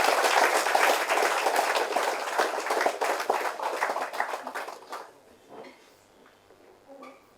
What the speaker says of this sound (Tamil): மாரியப்பனுக்கும் நம்ம எல்லாரும் ஒரு கரகோஷம் எழுதிய ஒரு அன்பு தெரிவிக்கிறோம்.